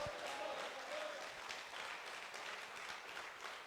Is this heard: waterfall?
no